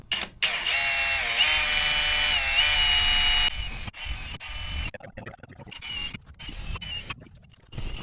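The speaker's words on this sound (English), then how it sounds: "So then I'm gonna bring my jigsaw" A jigsaw cuts an opening in the metal wall of an AWD Sprinter van for a CRLaurence awning window, buzzing loudly and steadily for about three seconds before giving way to quieter handling noises and intermittent clatter.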